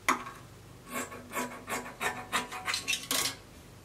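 Scissors snip through dress fabric folded in two, about eight short rasping cuts in a steady rhythm, close and fairly quiet with no talking.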